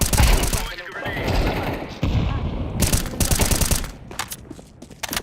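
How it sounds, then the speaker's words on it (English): A heavy booming detonation in a video game gives way to rapid, sustained automatic gunfire with sharp cracks near the end, loud and up close, with faint talk mixed beneath. "Throwing grenade."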